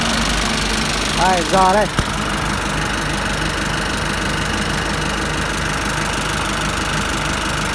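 A 2013 Nissan 2.5-ton forklift with a TD diesel engine idles steadily, a loud, constant rumbling throb close by throughout, with someone speaking briefly near the start over the running engine.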